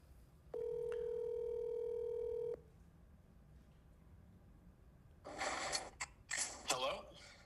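Telephone dialing a business number, a single long steady dial tone lasting about two seconds, followed by quiet line noise and then brief clicks and bursts of sound.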